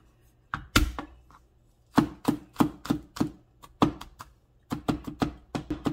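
A knife chops garlic on a cutting board for mincing, with quick irregular bursts of crisp taps and clustered strikes and short pauses between runs, close and clear with no talking.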